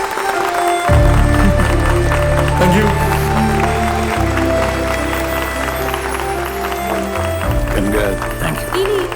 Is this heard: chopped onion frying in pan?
no